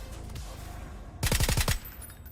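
A VSS rifle fires in PUBG, a quick burst of about five suppressed shots in a tight rhythm that stands out clearly over quiet game ambience.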